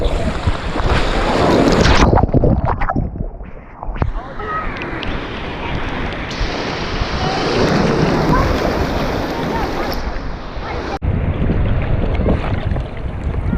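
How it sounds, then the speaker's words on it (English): Ocean surf rolls onto the beach at Isle of Palms, South Carolina, a continuous loud roar of breaking waves mixed with heavy wind buffeting the microphone and brief voices. "Definitely better waves today."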